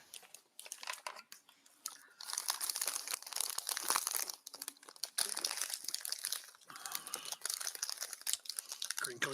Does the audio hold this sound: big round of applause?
no